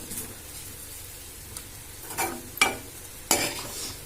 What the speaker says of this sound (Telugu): అంతే, రెడీ అయింది కాకరకాయ ఫ్రై.